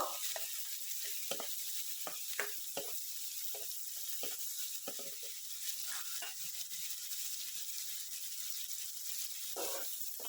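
Onions sizzle steadily in a hot pan while being fried until lightly pink for vegetable fried rice, with scattered clicks and scrapes of stirring throughout.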